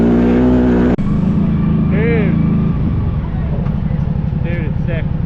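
A CFMOTO 800 ATV fitted with an RNG clutch kit revs and pulls hard, its engine tone climbing steadily and loud up close while people's voices break in over the motor.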